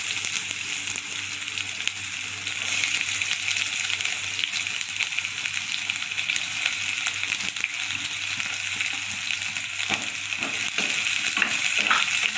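Chopped onion hits hot oil for Andhra chicken curry and fries with a loud, continuous sizzle, with a few scraping stirs toward the end and no talking.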